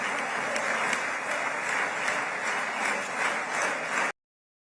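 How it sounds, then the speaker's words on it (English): A large crowd applauds and cheers in a dense, continuous wash of clapping that holds steady throughout before cutting off abruptly. "And you can see them cheering and clapping."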